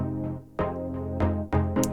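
Dry, unprocessed two-saw-wave plucky synth plays a few sustained chord stabs with the effects switched off, roughly four hits in two seconds, clear and upfront with no voices.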